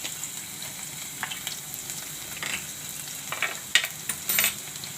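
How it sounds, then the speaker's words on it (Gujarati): Ginger and garlic sizzle in a pan of hot oil while a Manchurian dish is being cooked. The frying hiss runs steadily throughout, broken by a few sharper crackles and light stirring scrapes toward the end. "તો આપણે આ આદું નાખી દેવું. લસણ નાખી દેવું."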